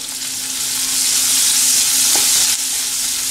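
Onions sauté in oil toward light browning with a loud, even sizzle that holds steady, broken by a brief stir partway through.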